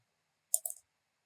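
Two quick, quiet computer mouse clicks in close succession, crisp and dry against near silence, while working in Microsoft 365.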